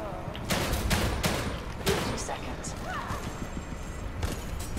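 Gunshots in The Evil Within 2, a few sharp broadband bangs scattered through the clip and mixed with game ambience while a voice talks over them.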